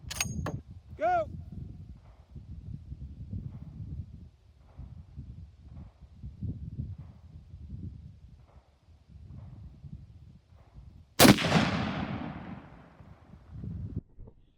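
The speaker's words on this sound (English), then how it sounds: "We weren't shooting for anything other than getting the sound out of the rifle." A Barrett M99 A1 rifle fires a single loud, booming shot outdoors with a long rolling decay, preceded by a sharp crack and voices talking at a distance.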